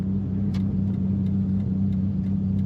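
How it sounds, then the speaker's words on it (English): Supercharged engine of a 2001 Dodge Viper GTS coupe with a six-speed manual, idling at a steady low rumble with faint ticking, close and continuous, with no voices. "Today we're driving a very fun 2001 Dodge Viper in yellow and white."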